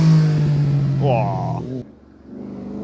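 Superbike accelerating up the Shelsley Walsh hillclimb, a loud rising engine roar with gear changes passing close by, then cutting away abruptly as a spectator exclaims over it.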